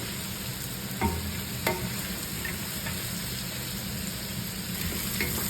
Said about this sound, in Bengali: হাই হিটে ফুল হিটে রান্না করতে হবে এটাকে কষাবো